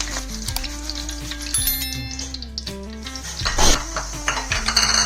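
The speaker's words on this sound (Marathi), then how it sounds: "असा खळखळ आवाज झाला पाहिजे" Freshly fried chivda rattles and crackles in a metal strainer set over a modak steamer pot to drain excess oil. Close, busy metallic clattering and scraping comes in bursts, with the faint sizzle of hot oil beneath.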